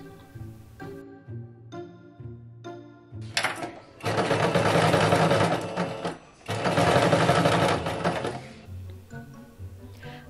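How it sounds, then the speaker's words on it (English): A sewing machine stitches around a leather officer's hat, two long loud runs of close, steady stitching separated by a short pause, with soft background music before and after. "I am going to match the notches on my hat and sew around it."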